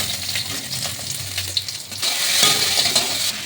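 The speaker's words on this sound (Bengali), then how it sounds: "এবার মশলাটা ভালো করে ভেজে নেবো।" Whole garam masala, a dry chilli, cashews and ginger frying in hot oil, giving a steady close sizzle with light stirring scrapes through the pan and a brief swell of crackle near the end.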